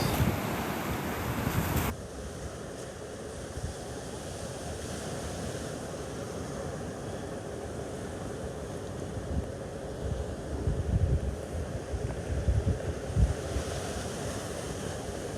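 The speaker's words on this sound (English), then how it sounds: "you see two sets of waves breaking here along the shore" Surf rolls and crashes along a shallow shoreline in North Naples, Florida, during Hurricane Elsa, a constant wash of breaking waves mixed with gusty wind buffeting the microphone, with no talking.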